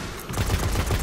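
Enemy gunfire in the video game Destiny during a Dreadnought patrol: a short, dense burst of rapid shots with rhythmic low thumps, fairly close and continuous.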